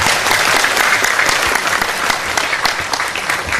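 Loud, close applause from a gathered audience at a spiritual talk, continuous energetic clapping filling the whole moment without a break.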